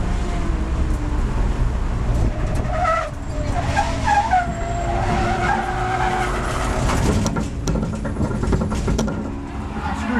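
Race car in a 24 Hours of Lemons endurance race skidding on locked-up brakes, with a continuous loud rumble of engine and tire scrub lasting throughout, rising and falling slightly with no speech.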